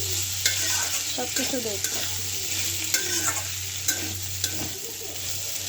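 Masala sizzles in a pan for a thin katla fish curry with potato and eggplant, stirred with repeated scraping strokes over a constant frying hiss and low hum; a voice briefly speaks.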